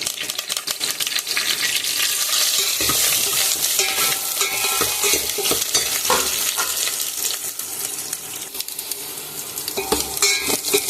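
Dried chillies, garlic and curry leaves tempering in hot oil, a dense continuous sizzle and crackle with occasional stirring clatter, close and steady throughout.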